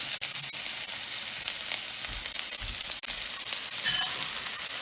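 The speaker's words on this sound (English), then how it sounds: "we're going to cook our shallots now that our skillet is good and hot. Hear that sizzle." Shallots sizzle steadily in a hot skillet, a continuous crackling hiss with occasional stirring scrapes, close up and without speech.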